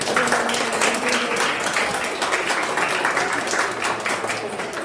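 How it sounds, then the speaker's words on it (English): An audience applauds steadily at an Old Rip oath ceremony in Eastland, Texas, a dense wash of many hands clapping, loud and sustained throughout, with a few voices mixed in. "Give yourself a round of applause"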